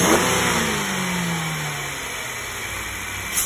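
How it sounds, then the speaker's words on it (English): A car engine revs during a gasoline direct injection induction service, a loud rising-then-falling rev near the start that winds down into a steady idle, close and alone without talk. "So about every 45 seconds, I will rev the engine three times to continue to pull this fluid."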